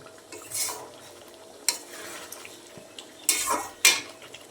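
Meat, onion and tomato are being stirred in a kadai: quiet background sizzle interrupted by a few separate bursts of spoon scraping and clattering against the metal pan, with no talking.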